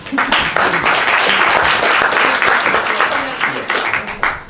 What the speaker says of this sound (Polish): I oklaski na zachętę